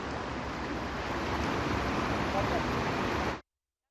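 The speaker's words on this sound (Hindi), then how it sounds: "बारिश के चलते गौला नदी उफान पर है।" The swollen Gaula river in spate after rain, a dense, continuous roar of rushing water, loud and steady, that cuts off abruptly near the end.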